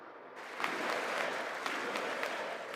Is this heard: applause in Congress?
yes